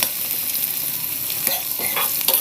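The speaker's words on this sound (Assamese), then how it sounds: "এতিয়া আকৌ ভালদৰে লৰাই দিম আৰু পিঁয়াজ আৰু ৰচুন ভালদৰে সিজালৈ মই এনেদৰে লৰাই থাকিম" Onion and garlic fry in oil in a pan while a spoon stirs them, a constant close sizzle broken by scraping strokes.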